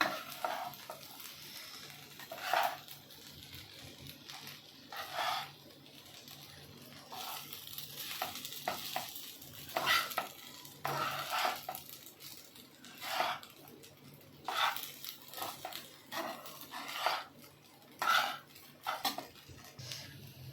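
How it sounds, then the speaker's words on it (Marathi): Repeated scraping and clinking strokes of a spoon stirring sabudana khichdi with crushed peanut powder in a pan, in irregular bursts with brief pauses, close and moderately loud, no voices. "आता हे आपण एकत्र करूया"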